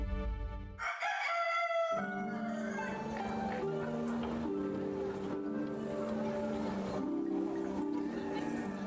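A rooster crows in Kingdom Come: Deliverance II, one loud cock-a-doodle-doo near the start, followed by game music and background ambience.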